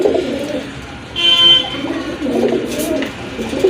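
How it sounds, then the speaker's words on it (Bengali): Garra pigeons coo in soft, throaty rolling calls close by, with a clearer cooing burst in the middle and low murmuring coos around it. "এই যে দেখেন কতটা অ্যাক্টিভ কবুতরগুলো"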